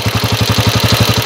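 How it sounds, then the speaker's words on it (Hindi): A Honda CG 125 motorcycle engine runs after being started, a loud, close, steady idle of rapid even firing pulses with a faint mechanical clatter on top. "बाइक हमने स्टार्ट कर ली है"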